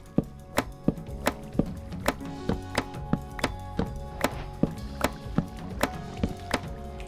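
Chopping beef into mince with a knife in the video game Minecraft with the Create mod, a steady series of sharp wooden chops about twice per second, clear and evenly spaced.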